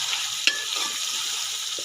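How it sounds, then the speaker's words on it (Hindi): Chopped tomatoes are stirred into frying potatoes in a pan, a close hiss of sizzling with a sharp utensil scrape and soft stirring sounds, no speech. "2 अदद मैंने टमाटर काट के रखे थे, वो मिक्स कर दिए।"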